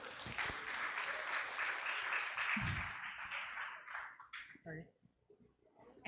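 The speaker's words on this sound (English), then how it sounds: "A round of applause for our students." Applause at a community town hall for students, a steady wash of clapping from the audience that swells briefly then dwindles to a few scattered claps, with voices talking over it.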